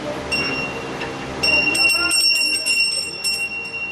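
Bright metal bell rung repeatedly for a Hindu aarti ceremony at a gathering in Danganiya, Raipur, clear ringing strikes with overlapping tones, close and loud, under a murmur of voices.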